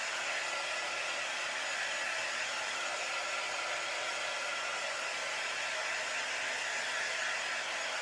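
A hair dryer on a low heat setting blows steadily to dry a silk screen, a constant loud broadband rush that holds unchanged and close for the whole stretch with no talking.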